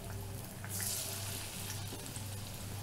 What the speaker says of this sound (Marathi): आता आपण हे तळून घेऊ.